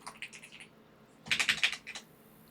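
Quick bursts of clicking keystrokes on a computer keyboard, a short cluster first, then a pause, then a louder rapid run of taps, close and dry.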